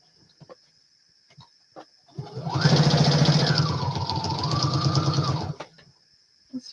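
A sewing machine runs close and loud, stitching around fabric scraps in one steady whirring burst of about three seconds that shifts pitch partway through, with light handling clicks before and after.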